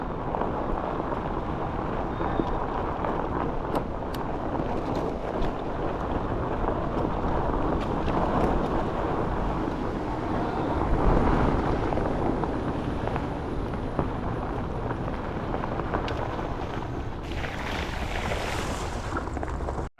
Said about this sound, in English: y'all probably hear more wind noise than you do bike noise